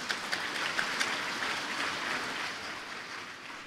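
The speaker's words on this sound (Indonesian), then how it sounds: "boleh tepuk tangan sekali lagi." Audience applause at a university graduation ceremony in Indonesia, a steady wash of many hands clapping in a large hall, soft and distant, with a few sharper claps near the start.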